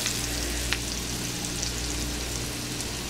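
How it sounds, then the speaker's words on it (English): A small red onion sautes in a pan for a coconut fish curry, giving a steady, dense sizzle with a sharp click or two from the pan partway through. "I have a small red onion sauteing"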